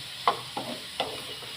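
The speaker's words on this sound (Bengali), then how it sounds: "ভালো করে একটু ঘিটা চতুর্দিকে চালিয়ে দেবো, যাতে সব জায়গায় ঘিটা যায়।" Carrots in ghee in a small wok, sizzling softly while a spatula makes three distinct scraping stirs at steady intervals, close up with no talking.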